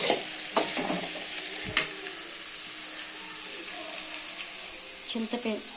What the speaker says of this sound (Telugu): దీంట్లో వేసి టమాటాలు అన్నిటికీ కలుపుకోవాలి